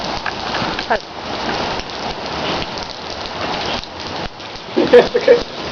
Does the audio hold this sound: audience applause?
no